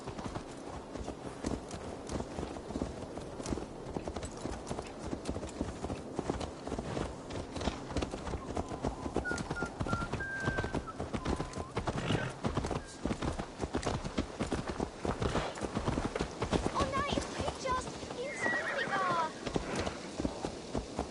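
A horse's hooves clip-clop in a steady running rhythm through Assassin's Creed Valhalla, continuous and fairly loud over a dense background of game sound.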